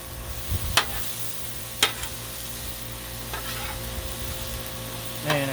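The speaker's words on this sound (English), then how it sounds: "Cooking up some Trinity" Cajun trinity and meat fry on a Blackstone griddle, keeping up a constant broadband sizzle. A few sharp scraping clicks from a spatula break through it, and there is no speech.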